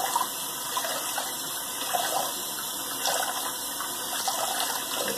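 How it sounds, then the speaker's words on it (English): Running water splashes steadily as a badger-hair shaving brush with a 24 mm super-high-density two-band knot is rinsed out, a continuous close gushing with no talk. "Now you rinse this brush out a little."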